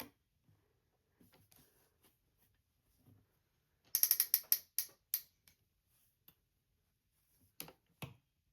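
A sewing machine stitches around a box shape on a fabric travel jewelry wallet, giving a short burst of rapid mechanical clicking midway, with scattered single clicks and taps before and after and no talking.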